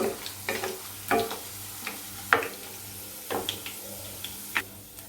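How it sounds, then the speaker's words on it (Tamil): Chicken kofta balls fry in oil in a pan for a chicken kofta curry with coconut, heard as a soft sizzle under repeated clicks and scrapes of turning and stirring, with no voices. "கொஞ்சம் திருப்பி எல்லா சைடும் நம்ம ஃப்ரை பண்ணிக்கலாம்."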